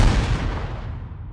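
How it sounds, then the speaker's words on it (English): A hard, explosion-style thump sound effect: one loud, deep boom that hits at once and then rumbles away over about a second and a half. "I usually end my videos with a hard like thump, you know, explosion noise"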